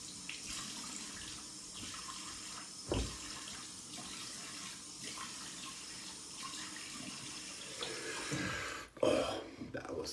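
Cold water from a tap runs steadily into a bathroom sink at a shave, a continuous soft splashing with a few louder bumps and shifts toward the end.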